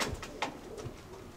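Racing pigeons at a loft give a few soft, low coos, faint and close, spaced irregularly over a brief moment.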